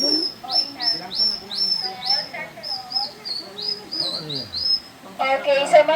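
A hunter's bird call lure from Palawan imitates birdsong with a series of short, rhythmic, high whistled chirps repeated close by, ending in a burst of busier warbling, with some voices in the background.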